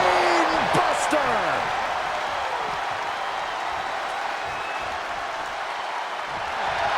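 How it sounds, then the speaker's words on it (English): A wrestling arena crowd roars loud and steady throughout a WWE Fatal 4 Way Tornado Tag Team match, with rising whistles and cheers cutting through early on before the noise settles into a constant wash. "The sound of this crowd is deafening"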